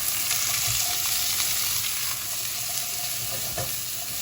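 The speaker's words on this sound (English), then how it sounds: "we're just going to saute down our carrots and our onions" Carrots and onions sauteing gently in oil for a chicken katsu curry, a steady soft sizzle with light stirring scrapes, close and continuous without talk.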